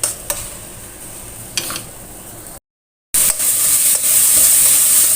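Spice paste for egg balado sautéing in a pan until dry, a loud hissing sizzle broken by a few scraping stirs and a brief silent gap, then a stronger sizzle.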